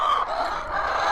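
Chickens cluck and murmur nearby in a short, continuous burst of overlapping hen sounds.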